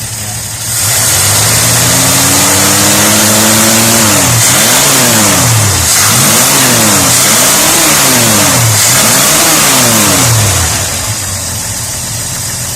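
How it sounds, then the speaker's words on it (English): A car engine needing plugs and wires revs hard in repeated rising and falling bursts over a rough idle, loud and close with no talking. "I know this car hasn't run this good since you brought it home."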